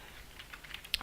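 Keys tapped on a computer keyboard, a quiet, sparse run of light clicks over about a second, close and alone with no voice.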